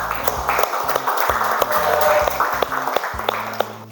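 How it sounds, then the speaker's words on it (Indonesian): A classroom audience claps for the first student group coming forward, a short burst of fairly loud, somewhat scattered clapping with a low hum in the background. "Tepuk tangan untuk kelompok 1"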